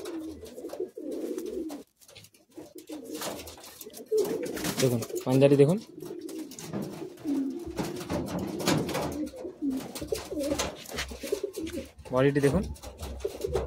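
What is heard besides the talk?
Madrasi pigeons cooing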